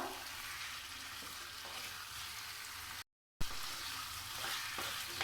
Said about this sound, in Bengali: আলু পটল চিকেন আমি এভাবে 2 মিনিট কষিয়ে নেব।